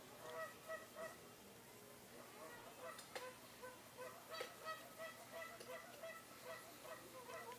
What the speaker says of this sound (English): Can hear the geese in the background making their presence known.